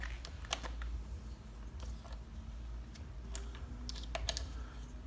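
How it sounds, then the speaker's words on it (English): A torque wrench tightening handlebar stem faceplate bolts to 5 newton meters gives faint scattered clicks and ticks, a few sharp snaps spread irregularly over a quiet background. "Until I hear that torque wrench release, or feel it release"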